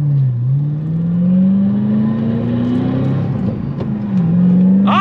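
A Roush P-51A Mustang with a five-speed manual transmission revs up to 6,000 RPM. Its engine note climbs loud and close in a smooth rising drone, dips, then climbs again.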